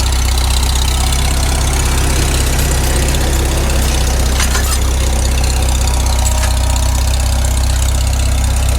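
Farmall Super M tractor pulling an IH No.2 subsoil plow through hardpan in first gear, its engine a steady, loud, close low rumble throughout with a faint knocking pulse and no talk.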